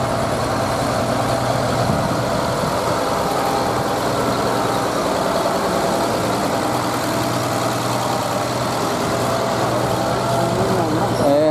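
A tractor engine runs steadily at a farming event, a constant low mechanical drone with a steady hum throughout, heard up close and loud without clear breaks.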